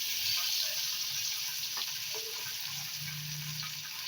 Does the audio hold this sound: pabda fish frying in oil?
yes